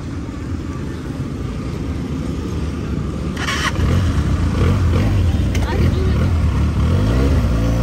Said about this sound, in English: Benali 300 first ride.